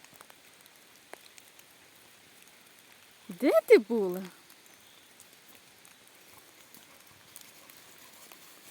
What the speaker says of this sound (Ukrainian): Ну, потрапили під дощик.